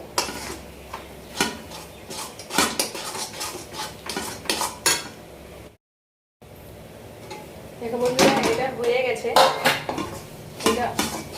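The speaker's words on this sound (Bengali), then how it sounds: "আর একটু নাড়িয়ে নেবো" Milk and coconut barfi mixture stirred in a metal pan, a steady run of spoon scrapes and clinks against the pan, broken by a brief silence midway, then heavier scraping with a soft simmering background.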